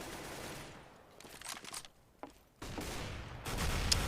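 AK-47 rifle fire in a Counter-Strike: Global Offensive esports match, heard as scattered, irregular bursts of shots with dry gaps between them and a louder, denser volley near the end.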